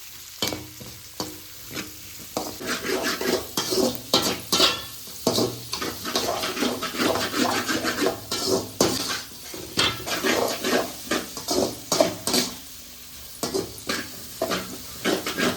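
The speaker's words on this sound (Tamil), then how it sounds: "நல்லா அடுப்பை ஹையா வச்சு வதக்கி விட்டுக்கலாம்" Egg fried rice stir-fried on high flame in a pan, a loud close sizzle with repeated rhythmic scraping and clanking of a spatula against metal in bursts, with brief quieter pauses.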